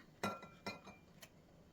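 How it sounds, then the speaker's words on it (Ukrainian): An egg being cracked into a separate bowl while making a summer cheese pie: three sharp, clinking taps against the bowl's rim spaced across under two seconds, quiet and close. "яйце я розбиваю в окремий посуд"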